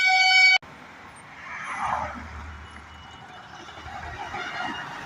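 Road traffic rumbles past on National Highway 117 between Thakurpukur and Amtala, a steady wash of passing cars and trucks. After a short loud burst at the start, the noise swells and eases as vehicles go by at moderate distance.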